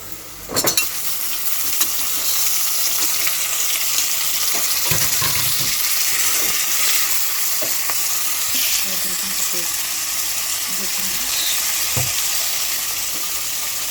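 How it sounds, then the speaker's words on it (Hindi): Minced meat is added to golden-browned onions in a hot pan for Hyderabadi keema, starting with a sharp clatter, then a loud steady frying hiss with occasional stirring scrapes, close and without talk. "अब हम इसमें कीमा ऐड करेंगे।"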